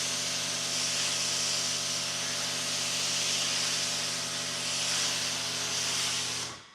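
A Now Wash foam cannon fitted with an economizer sprays in a continuous loud hiss with a low steady hum beneath, cutting off abruptly at the end.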